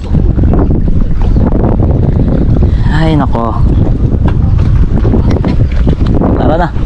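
Strong wind buffets the microphone in a constant loud roar at an outdoor tilapia fishing spot, with a voice calling out briefly over it and a low rumble throughout.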